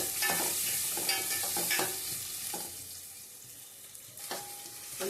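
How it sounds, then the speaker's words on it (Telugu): Onions and green chillies fry in a pan with a steady close sizzle, broken by repeated scrapes and clinks of stirring. "ఉల్లిపాయ, పచ్చిమిర్చి వేసేసి బాగా వేగనియాలి."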